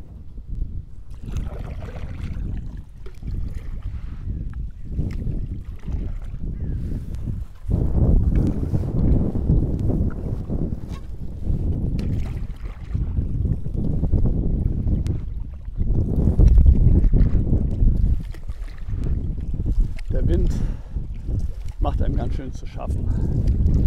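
Strong crosswind roars and buffets the microphone while someone paddles a boat on the Elbe, a steady low rumble that surges in gusts throughout, with a voice talking over it.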